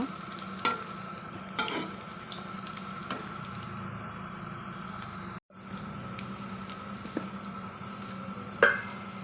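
Bitter gourd tempering frying on a stove, a soft continuous sizzle with occasional spoon scrapes and taps as it is stirred, a brief break partway through.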